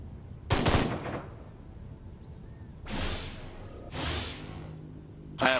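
Rifle gunfire in Destroy All Humans comes as four separate loud bursts of rapid shots with pauses in between, each burst crackling and sharp against a low background.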